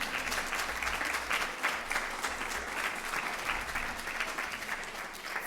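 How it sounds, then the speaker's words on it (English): A crowd at a town candidates' forum gives steady, even applause throughout, with a busy texture of many hands heard from a moderate distance. "give them a round of applause"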